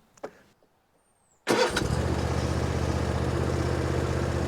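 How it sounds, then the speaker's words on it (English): Zero turn mower engine cranking to life after a short quiet start with a few faint clicks, then catching abruptly into a loud, steady close idle. "Put your key in your ignition and turn it till it starts."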